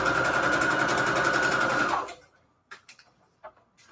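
A sewing machine stitches shabby chic fabric onto receipt paper, running in a loud, steady, buzzing whir for about two seconds before stopping, followed by a few faint clicks and handling taps.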